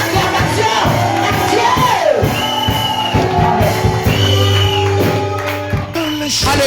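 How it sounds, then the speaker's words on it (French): A church congregation cheering and acclaiming as a prophetess goes up to the altar, loud overlapping shouts, whoops and yells, with scattered clapping and thumps underneath, close and continuous. "Acclame maintenant."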